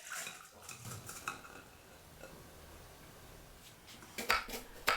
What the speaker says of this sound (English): Wash 220 grams of basmati rice 2 to 3 times and leave the rice in the colander.